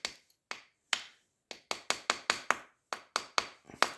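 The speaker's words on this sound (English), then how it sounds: "we can take our little brass hammer and just kind of work it around" A brass hammer taps a wheel bearing on a 2001 Honda Foreman Rubicon ATV, sharp metallic taps in an uneven series, about a dozen in all, getting quicker toward the end, close and clear against silence.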